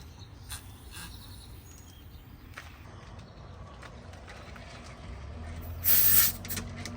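A short, loud burst of air hisses from the cracked service port of a mini split system, close by, rising briefly above a low steady background.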